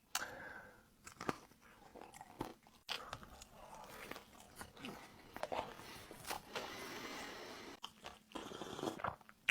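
Crisp, irregular crunching and chewing of a hazelnut praliné tartlet with a crispy shell and whole hazelnut, quiet close bites with short pauses between them and no talk.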